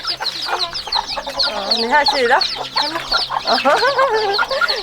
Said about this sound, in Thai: เก็บไก่เนาะฮะ